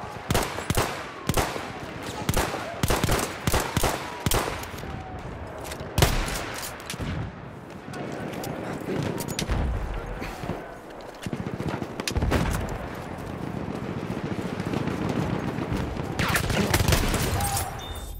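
Battlefield 1 gameplay in the Argonne forest fills with dense machine-gun fire, rapid overlapping rattling bursts and occasional heavier booms across the whole stretch.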